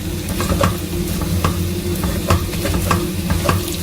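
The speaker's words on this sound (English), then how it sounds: "So now we'll break all these into smaller pieces. That is why we have to use this strong ladle." A strong ladle breaking traditional Uttarakhand sai into smaller pieces in a pan, repeated scraping knocks over a continuous sizzle, close and fairly loud, with no talking.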